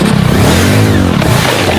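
A motorbike engine revs loudly and close by in a steady, rising-and-falling drone for a couple of seconds, with no talking over it.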